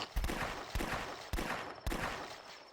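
Gunshots in The Last Stand video game: four heavy, booming shots spaced roughly half a second apart, each with a long ringing tail and no talk over them.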